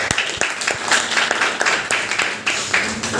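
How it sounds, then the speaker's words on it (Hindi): Seminar audience giving a hearty round of applause, many hands clapping steadily and fairly close, with a few sharper individual claps standing out from the crowd. "एक जोरदार तालियां इसके लिए"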